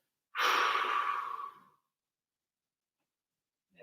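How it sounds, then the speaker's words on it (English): A single deep clearing breath, drawn in through the nose and released in one long audible exhale, close and soft, followed by quiet. "When you're ready, breathe in through the nose Let it out with the exhale."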